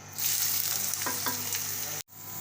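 Onions frying in a pan for a potato and beef curry, a steady close sizzle with a couple of brief scrape or stir knocks, cutting off abruptly near the end before the sizzle resumes.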